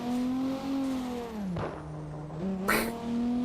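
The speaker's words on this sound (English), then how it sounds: "Stupidest sounding backfire ever." A video-game car engine drones and revs, broken by two sharp bursty pops, one near the middle and a louder one near the end.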